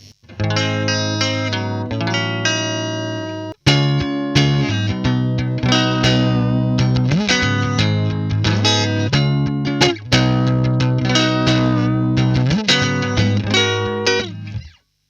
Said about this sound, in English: let's plug it in. Okay, here's my clean tone.